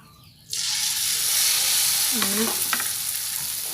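Battered lotus petals dropped into hot oil for deep-frying in a vegetarian dish, bursting into a loud, continuous crackling sizzle that holds steady, with a few faint utensil clinks partway through.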